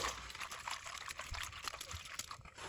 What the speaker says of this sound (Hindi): अब यहाँ पे मैं पानी डाल दूंगी